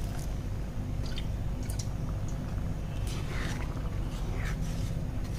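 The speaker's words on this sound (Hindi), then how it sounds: "अब हम इसमें गर्म पानी ऐड करेंगे" Hot water poured into roasted chana dal in a pressure cooker, giving a steady, close hiss and sizzle with wet bubbling, continuous throughout with no talking.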